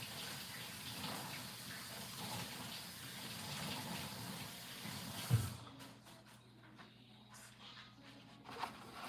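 A household tap runs in a steady gush while hands are washed, filling the first half with close, even water noise before it cuts off abruptly, leaving quieter room sounds and a faint knock.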